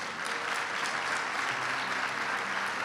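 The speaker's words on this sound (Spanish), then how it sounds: "Un aplauso al Señor." A church congregation applauds in worship, giving a continuous, distant-sounding round of clapping that holds at an even level throughout, with no talk.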